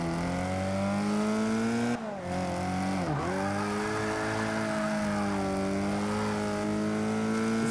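A rear-engined race car in a racing video game revs steadily while drifting, its sustained engine whine dipping sharply in pitch twice before climbing and holding at a moderate level, with no voices.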